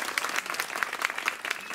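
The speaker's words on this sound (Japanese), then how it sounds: "もう一度大きな拍手をお願い" Audience applause at an outdoor village festival of shishimai lion dance and staff martial arts in Konosu, Saitama, a steady dense clapping from a sizeable crowd that fills the whole moment, moderately loud and without speech.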